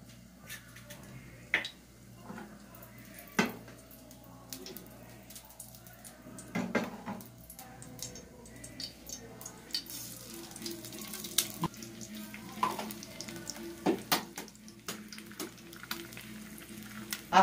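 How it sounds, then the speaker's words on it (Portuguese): Eggs frying in a frying pan, a quiet steady sizzle with sharp clinks and taps of utensils against the pan at irregular intervals. "Vamos fritar os ovos."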